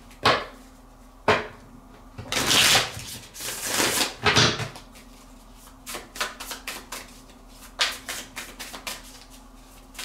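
Tarot cards are shuffled by hand in irregular bursts of riffling and soft slaps, close and fairly loud, with quieter pauses between bursts and no talk.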